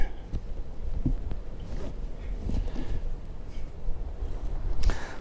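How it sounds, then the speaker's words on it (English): Gusty wind buffets the microphone outdoors, a steady low rumble with a few sharper bumps and rustles, no talking. "It's pretty windy today"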